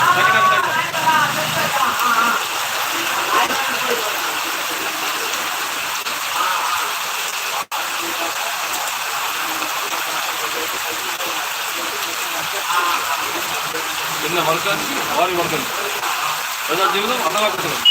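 Steady heavy rain in Mandamarri, Telangana hisses continuously, with a brief click partway through and faint voices murmuring beneath the downpour.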